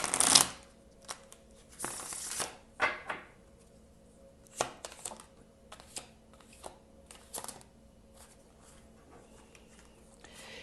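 A deck of tarot cards is shuffled by hand in a quiet room, with a sharp riffle at the start and then a string of soft, uneven card slaps and rustles that fade in and out.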